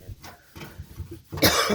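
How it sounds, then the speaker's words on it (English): A few short, rough coughs from a nearby person, followed by a louder, breathy burst at the end. "I'm still coughing"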